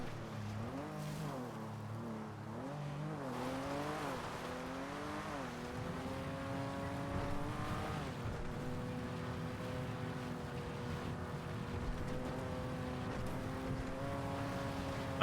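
A car engine in the game GTA drives along steadily, its pitch rising and falling as it revs and shifts, loud and close with no talk over it.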